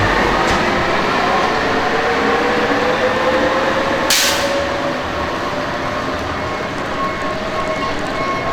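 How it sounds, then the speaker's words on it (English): Bombardier Innovia APM automated people mover running on rubber tyres, a loud continuous rolling rumble with a rising whine and one sharp burst of noise midway, fading slightly toward the end. "The Bombardier Innovier APM is an automated people mover, or APN system."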